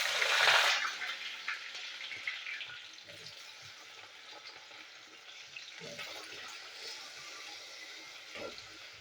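Taro pieces fry in mustard oil, opening with a loud burst of sizzling as they hit the pan, then settling into a softer, steady frying hiss with occasional stirring knocks.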